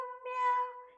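A human voice imitates a cat meowing with a single short, nasal, tonal meow that rises and falls over about a second.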